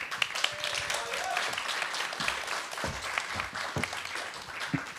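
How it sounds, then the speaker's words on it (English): Audience applause at a theater festival talk session, a broad wash of clapping from a crowd in a hall, moderately loud and continuous, with some talk and crowd noise mixed in. "So let's everybody give a round of applause for Adam back."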